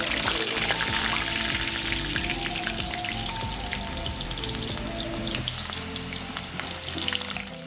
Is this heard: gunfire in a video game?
no